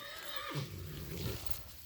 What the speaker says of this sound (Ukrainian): Кінь новоолександрієць.